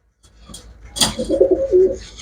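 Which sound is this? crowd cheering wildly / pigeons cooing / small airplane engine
pigeons cooing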